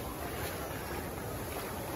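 Sea waves wash up on the beach at Puri, a steady broadband roar of surf mixed with gusty wind buffeting the microphone, with no voices.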